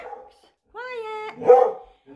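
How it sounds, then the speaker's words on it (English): Puppies bark and whine for their dinner at home, a drawn-out tonal yelp followed by a rougher bark, close and clear, with brief speech around them. "you puppies wanting your dinner"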